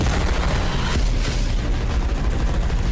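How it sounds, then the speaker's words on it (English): Loud, dense semi-automatic gunfire, rapid shots blending into a continuous roaring barrage with booming impacts. "Oh, the gunfire. Oh, that semi-automatic."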